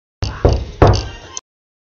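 Knocks rap on a door in a quick cluster of two or three close, loud hollow thuds with a short ringing tail, followed by silence.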